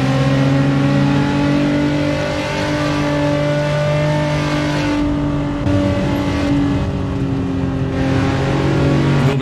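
A car drives into a tunnel in Forza Horizon 5 on a Japanese-style road, with a steady, loud engine drone and strong harmonics whose tone shifts partway through as it enters.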